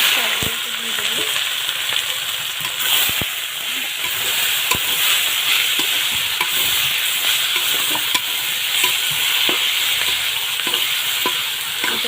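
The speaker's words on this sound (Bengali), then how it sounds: "শাকগুলোকে ভেজে নিলাম একটু ভেজে নেব" Leafy greens sizzle steadily in hot oil with garlic and dried chillies, a constant loud frying hiss broken by occasional stirring scrapes and taps.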